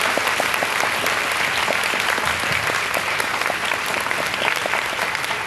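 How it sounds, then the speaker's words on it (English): A sold-out classical concert audience in Saigon applauds at the Camp Philharmonic show, a thick, sustained round of clapping with many distinct claps, steady and loud throughout. "please give a round of applause for yourself"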